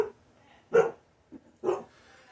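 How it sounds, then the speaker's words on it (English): A dog barks twice with a short gap between, sharp and fairly near, with a faint yip between the barks and no talking. "Dogs are barking like crazy."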